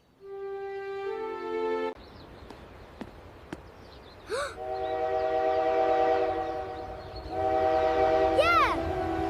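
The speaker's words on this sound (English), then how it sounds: "Yes, it's a famous mountain train." A famous red mountain train in Switzerland sounds a horn in two rising blasts amid rumbling rail noise, preceded by a short musical tone, moderately near.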